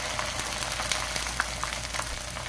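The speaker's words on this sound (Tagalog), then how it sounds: "iprito na po natin" Moringa leaves and bitter gourd fry in hot oil over medium heat, a dense, steady sizzle and crackle with small pops, close and continuous without talk.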